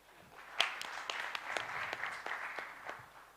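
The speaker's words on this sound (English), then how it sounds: "a round of applause" A small group claps for a few seconds, scattered hand claps at moderate distance, fairly faint, tapering off at the end.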